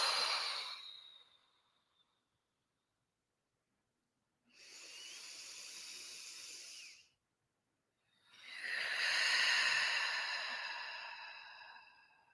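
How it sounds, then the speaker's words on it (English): Three deep releasing breaths, each a long, soft, close breath drawn in through the nose or blown out, separated by stretches of silence. "Deep inhale through the nose,"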